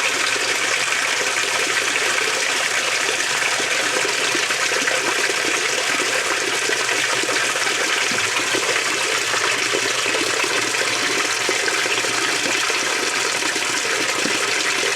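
Warm rinse water rushes steadily into a Whirlpool washing machine as it fills, a constant loud gushing hiss that stays level from start to finish.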